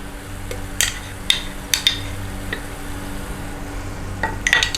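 Garlic and ginger paste fries in a pan for mutter paneer sabzi, a steady low sizzle with several sharp scraping stirs of a spoon against the pan, close by and with no talking.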